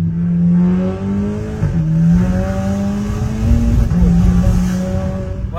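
A car's engine drones steadily while driving, a loud, close cabin hum whose pitch rises gradually, dips briefly twice as if shifting gears, then climbs again, with no talking over it.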